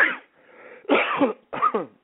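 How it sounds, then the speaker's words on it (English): Several harsh coughs close up, in quick bursts with short pauses between them. "See, I'm getting excited, coughing."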